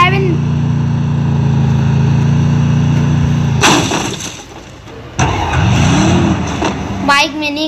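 Car engine droning steadily in the Free Fire battle game, loud and continuous, broken by bursts of gunfire and other game effects partway through, with talk over it.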